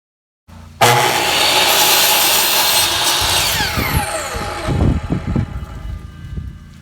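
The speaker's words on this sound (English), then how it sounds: "I'll then go and cut my final row pieces" Power saw cuts through wood trim pieces for an accent wall, a loud sustained whine from start to near the end, then winding down with scattered clunks and handling noise.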